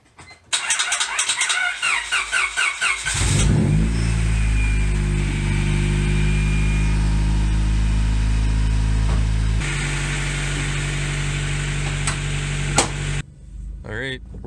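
A cheap track car on a street shakedown drive starts up and revs hard, with a loud sustained engine drone that shifts pitch midway and drops off near the end. No talk is heard.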